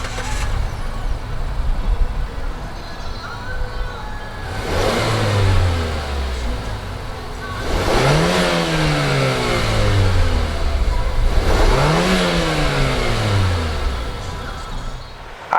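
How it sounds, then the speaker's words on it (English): A 2019 Mazda CX-5 SUV starts up and revs hard in several rising and falling bursts, each surge climbing in pitch and then easing back to idle, loud and close with no talking. "Let's go ahead and fire up this 2019 CX-5."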